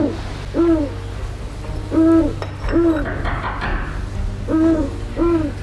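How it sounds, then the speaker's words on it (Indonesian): Bence bird, an owl-like bird, hooting in a repeated two-note pattern, five or six clear calls at a steady rhythm, fairly close and alone against a quiet background. "Suara burung bence ini kok tiba-tiba bikin perasaan Ibu jadi nggak enak ya"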